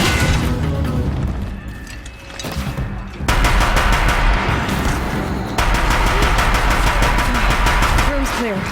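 Gunfire from the action game Horizon Zero Dawn: loud, rapid bursts of repeated shots in dense volleys with brief gaps, mixed with booming impacts and game sounds.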